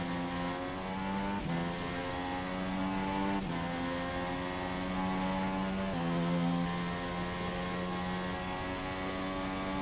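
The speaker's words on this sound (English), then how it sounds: "So Vincent starts his lap now." A racing car engine in an F4 video game race at Italy screams at high revs, its pitch climbing and dropping sharply with each gear shift, loud and continuous with no talking.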